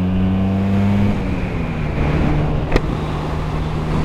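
Vespa PX scooter pulling away under throttle on the road, its engine note climbing in pitch and then settling into a steady drone, with a brief sharp click near the end.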